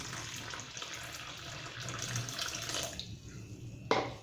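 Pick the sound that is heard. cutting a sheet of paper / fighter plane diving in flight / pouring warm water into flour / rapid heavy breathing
pouring warm water into flour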